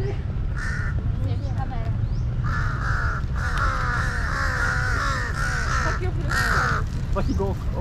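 Crows cawing repeatedly outdoors in Bangkok, Thailand, a series of harsh nearby calls in bursts, some overlapping, over a constant low background hum.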